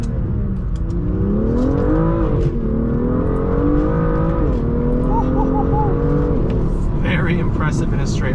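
BMW 128i engine droning loud and close from inside the car while driven, its pitch climbing and dipping through several gear changes across the stretch, with steady road and tire noise underneath.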